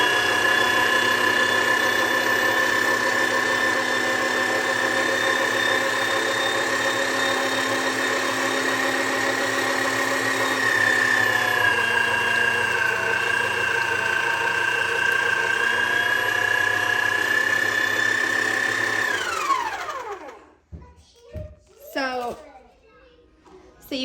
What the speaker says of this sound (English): now I'm just going to try to grind some meat